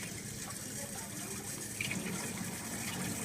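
Tap water runs steadily while a squid is rinsed under it, a continuous splashing hiss with slight variation as the flow hits the body.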